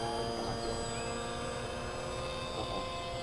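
A model seaplane's engine runs at full throttle, a steady, loud, continuous high-pitched drone that holds nearly constant throughout, with no voices.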